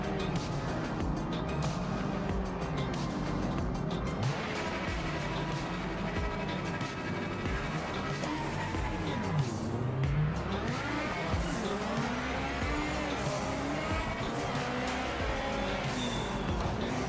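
Race cars in Project Motor Racing drone and whine at high revs, engine pitches rising and falling as several cars run close together through a continuous, loud stretch of racing with no talk.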